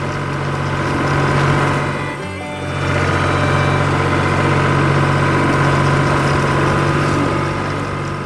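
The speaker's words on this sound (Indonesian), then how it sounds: "truk biru dan mesin pertanian bekerja keras di pertanian yang hidup" Farm machinery and a blue truck in a cartoon farm scene give a loud, steady engine drone at idle, with a brief dip partway through before the rumble resumes and holds.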